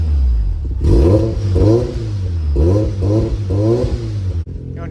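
A car engine revs hard in a few quick blips, each rising and falling, loud and close, with a clattery edge and no voices.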